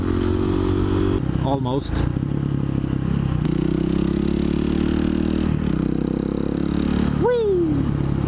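A light Supermoto motorcycle ridden on a city commute, its engine droning steadily up close with a brief rev and some clatter, while a rider speaks briefly over it.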